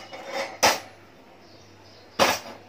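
A cast iron appe pan is set down on a stove, making two sharp metallic clanks about a second and a half apart over a low, steady background hiss.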